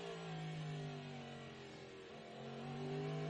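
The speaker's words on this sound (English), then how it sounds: "I'd say that was a Cadillac engine that we can hear behind us." A Cadillac race car engine sounds in the background at an IMSA sports car race in Monterey, a faint distant droning wail whose pitch rises and falls as it accelerates past.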